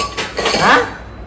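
Dishes, pots and cutlery clink and clatter close by as they are washed by hand, a few bright metallic knocks with no talking.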